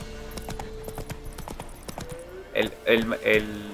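Horse hooves clip-clop in a steady rhythm in the video game The Witcher 3, under someone speaking over the gameplay, with louder game sounds near the end.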